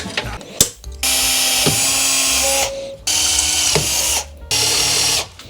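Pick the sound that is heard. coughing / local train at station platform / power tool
power tool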